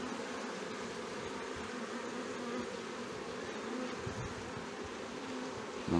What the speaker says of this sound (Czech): visí tady hrozen včel